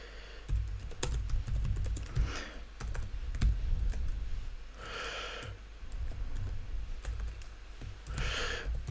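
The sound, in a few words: typing an email on a computer keyboard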